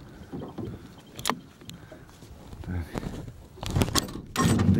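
The starter cord of a cold Vikhr 30 outboard boat motor is yanked several times without the engine catching. Close scraping pulls and rattling thunks grow louder toward the end.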